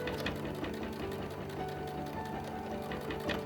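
A sewing machine stitches through a quilt during machine quilting, a steady close rapid whir of needle strokes running continuously without a pause and with no voices.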